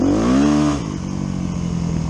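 A 125cc motorcycle, prepared for stunt riding, pulls away in first gear: the engine revs loudly up close, then drops to a steadier, lower running note as it moves off.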